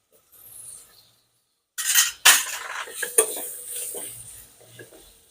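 A spoon scraping and clattering against a pan as carrots and potatoes are stirred over a full gas flame, in short bursts of metal-on-metal scraping between quiet gaps, with a soft sizzle underneath.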